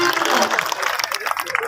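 Audience at a live comedy show in Kurud clapping steadily and loudly, a dense continuous burst of applause lasting throughout.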